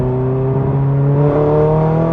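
A tuned Ferrari 430 rated at 777 hp drones loudly from the cabin, a steady, smooth engine tone that climbs slightly in pitch as it pulls, continuous with no voices over it.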